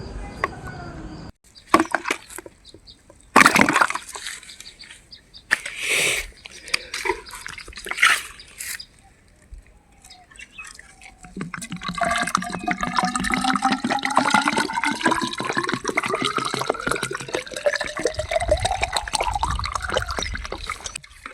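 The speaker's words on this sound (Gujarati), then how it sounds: "પાઇપ થ્રુ એક દિવસના અંતરે દરેક કલમને પાણી આપીએ છીએ." Water pours from a pipe onto young Kesar mango grafts on a farm, a steady rushing trickle that builds after a few clattering knocks and continues loudly to the end.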